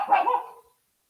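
A single dog bark, close and loud, short and sharp, then silence; no voices.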